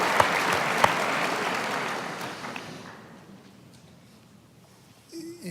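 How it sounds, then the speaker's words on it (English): Audience applause at a live on-stage interview, a dense burst of clapping that starts loud and close, then gradually thins and fades out over several seconds. "I think that deserves an applause."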